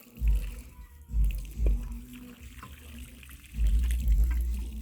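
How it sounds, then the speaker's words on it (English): Water poured out during avocado planting in a rural yard, a low splashing gush arriving in several bursts with quieter gaps between, close by and moderately loud. "And then you pour water."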